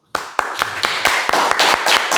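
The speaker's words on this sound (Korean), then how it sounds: "같이 좀 환영의 박수를." Welcoming applause from a church congregation starts suddenly and holds as steady, close, sharp hand claps in a quick rhythm, with no speech over it.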